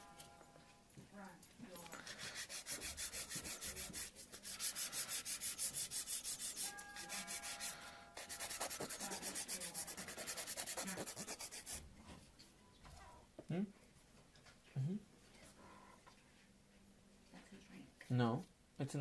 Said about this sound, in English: So now I'm going to take a 100 grit file and begin shaping.